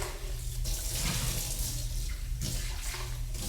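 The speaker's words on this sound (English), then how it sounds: "I'm gonna rinse it out in the sink." Water from a kitchen sink tap runs steadily as a blender is rinsed, a close, continuous splashing rush with slight shifts as the flow hits the jar.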